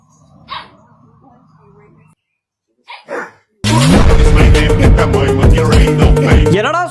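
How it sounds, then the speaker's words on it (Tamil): A puppy barks in short sharp bursts, then a stretch of loud, dense dog barking and growling breaks out close by, with a big dog joining the noisy tussle. "குட்டி நாய் சுத்தி சுத்தி கத்தி மாஸ் காட்ட பெரிய நாய் ஊன்னதுக்கே அவன் உருண்டு வர்றான்."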